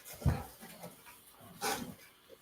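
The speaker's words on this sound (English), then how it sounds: "I have a puppy in my arms right now" A puppy held in someone's arms gives a few soft, close whimpers and yips in two brief bursts, with quiet breathing between.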